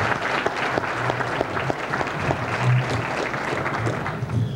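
An audience at a 1991 high school academic awards banquet claps steadily, a full round of applause with some sharper individual claps standing out.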